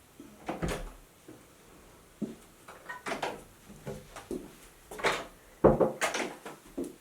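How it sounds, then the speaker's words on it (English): A door is closed indoors, heard as a series of soft thumps and knocks spread through the few seconds, with one firmer bump near the end. "until I close the door"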